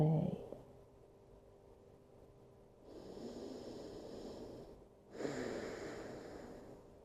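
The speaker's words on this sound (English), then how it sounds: "focusing on our inhales and exhales, allowing any tension to melt away." Slow breathing in and out during a yoga class, two long audible breaths a couple of seconds each separated by quiet pauses, close and soft.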